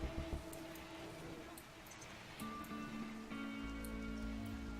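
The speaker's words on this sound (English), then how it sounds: "the rain's coming in" Steady rain in the colony-building game Rimworld, a soft continuous hiss of falling water with drips, mixed with low game tones and a sustained musical drone.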